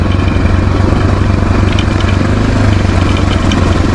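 Honda XR650 motorcycle engine idling loud and close, a steady low thumping rumble with faint clatter, running alone without pause.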